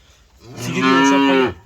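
A young bull calf gives a single loud, drawn-out moo at close range, rising and holding for about a second before cutting off, alone without talk.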